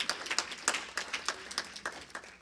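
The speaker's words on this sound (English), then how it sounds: "Y'all can clap if y'all want." Audience members at a Naperville community diversity discussion clap in a thin, scattered way, with a few hands beating irregularly and fairly faintly, and no talking over it.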